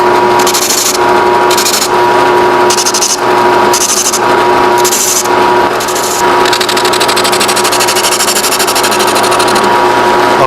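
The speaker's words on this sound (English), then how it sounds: "Do a gentle tapping motion, working your piece back and forth to get it sanded." A wooden pagoda box top is sanded on a power sander, its curved corners worked back and forth, producing a loud continuous machine drone with rhythmic rasping surges as the piece is tapped against it.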